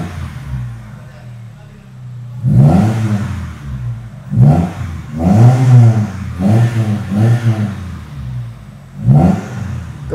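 Mitsubishi Galant GTI engine revved hard in four or five sharp bursts, each rising then dropping back to a low idle, close and loud.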